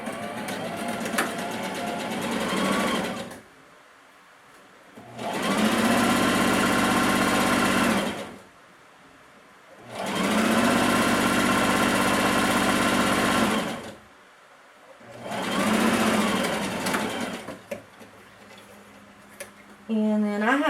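A sewing machine stitching down a ruffle seam on a child's bodice, running in three long loud bursts of a few seconds each, separated by quiet pauses with light handling sounds.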